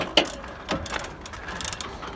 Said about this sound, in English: is pulling the calipers off this 2012 onwards Focus